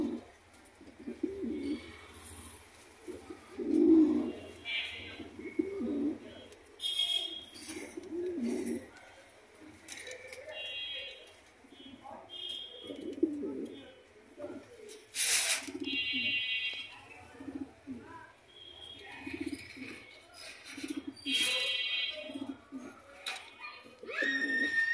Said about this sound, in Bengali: সাদা কিং রানিং পেয়ার।